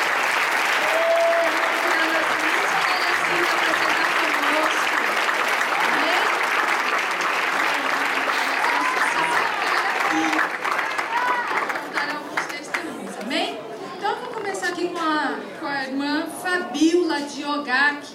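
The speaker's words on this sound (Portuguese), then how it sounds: "Uma salva de palmas, irmãos." A church congregation at a congress in Japan giving a loud, dense round of applause that fades out, followed by someone speaking over the room.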